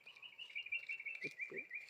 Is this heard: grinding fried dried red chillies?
no